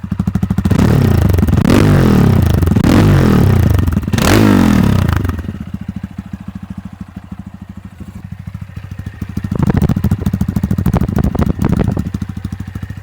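A Honda Monkey motorcycle engine of almost 200cc runs with a rapid popping exhaust beat, revving loudly several times, then dropping to a rough idle before revving again.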